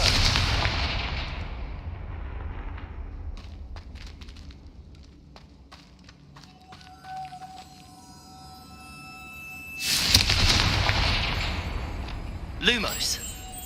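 A Confringo fire spell goes off in Hogwarts Legacy, opening with a loud fiery burst that decays into scattered crackles and chimes, then a second heavy roaring blast followed by a sweeping whoosh, with game effects throughout.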